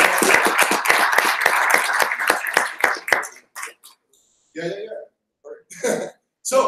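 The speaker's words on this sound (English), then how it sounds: "I want a round of applause for everyone." Audience applause at an anniversary session of an international visual computing seminar, a dense burst of claps lasting about three seconds before thinning to a few scattered claps and quiet gaps.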